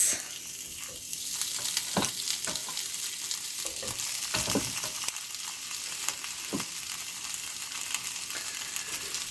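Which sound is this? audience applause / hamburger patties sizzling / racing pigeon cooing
hamburger patties sizzling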